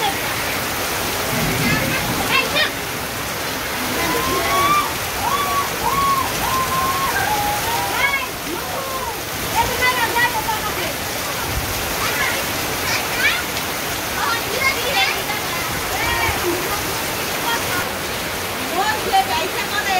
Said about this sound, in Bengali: বাবারে বাবারে বৃষ্টি রে জোরে বৃষ্টি জোরে জোরে জোরে জোরে